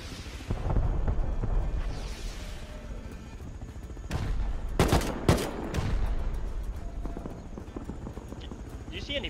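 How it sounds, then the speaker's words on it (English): Attack helicopter in the video game Rust firing rockets and its turret, with sharp bursts of blasts around the middle over steady rumbling, while people talk throughout. "You shoot rockets when you right click, apparently, when you enter the aiming state or something."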